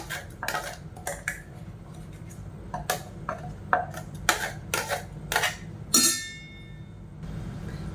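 Spoon scraping and clinking against a bowl while tomato paste is stirred into dosa batter, a run of irregular knocks and scrapes with a sharper metallic clink near the end, close by and moderately loud.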